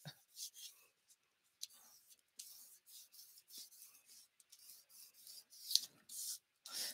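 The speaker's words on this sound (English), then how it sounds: "Just burnishing this in on all angles." Paper being burnished by hand during a mini book paper craft: short, repeated rubbing strokes, close and fairly quiet, in bursts with brief pauses.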